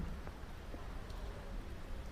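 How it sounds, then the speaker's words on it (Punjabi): Rain falling on a rural farmstead beside a verandah where cattle are kept, a faint, steady wash of noise that runs unbroken with no voices. "ਆ ਜਾ ਮੀਂਹ ਪੈਣ ਡਿਆ ਵਾ ਇੱਥੇ ਆ ਜਾ ਬਰਾਂਡੇ 'ਚ"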